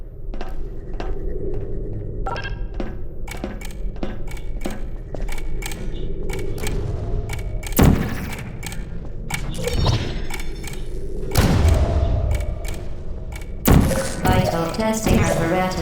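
A companion cube drops into an incinerator in the Portal video game, giving a string of hard metallic thunks and clatters, with a few louder crashes toward the end over a low mechanical hum.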